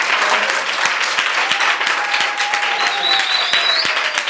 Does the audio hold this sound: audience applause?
yes